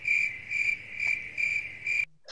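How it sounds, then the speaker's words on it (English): Cricket chirp sound effect, steady rhythmic trills repeating about every half second, loud and close, ending abruptly with a short unrelated noise. "Stop with the crickets"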